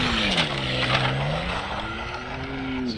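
An ARRMA Mojave 4s RC desert truck runs hard, its electric motor whining in a rising and falling pitch over constant rough rumble and gritty tire noise, loud and close throughout.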